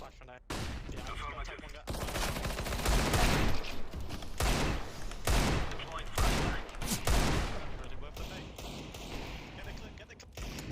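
Rapid bursts of gunfire from a tactical shooter match, loud and dense, with a few heavier shots standing out among the volleys and a faint voice underneath.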